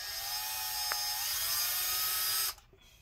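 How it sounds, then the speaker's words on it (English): A small drill runs in reverse to make starter holes in the plastic case of a Dell Inspiron 5575 laptop, a steady close high-pitched whine with one brief catch, which cuts off abruptly near the end. "These aren't made to drill through plastic, so it works for making starter holes."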